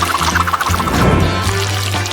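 A short, close pour of beaten eggs over a beef patty topped with bacon and cheese, a brief liquid gush and trickle lasting about two seconds.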